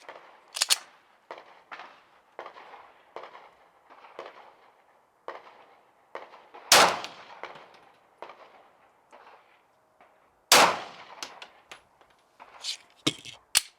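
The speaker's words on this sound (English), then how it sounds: "Next, we're gonna fire the 9mm rounds, actual 9mm rounds" Sharp 9mm pistol shots crack one after another at irregular intervals, some much louder than others, with quieter snaps and ambient noise in between.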